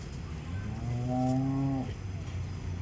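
A single long, drawn-out moo from a cow at a Punjabi livestock farm, rising and then trailing off over about a second, close by, with a quiet farmyard before and after.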